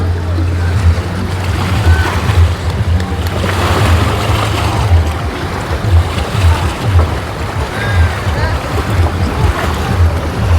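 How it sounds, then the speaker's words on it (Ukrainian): Waves on the open sea, with deep clear water and no breakwaters, wash and roll steadily under heavy wind buffeting and a low rumble. Someone talks over the surf throughout. "там море, і там відразу глибина і море чисте, нема хвилярізів, теж відкрите море"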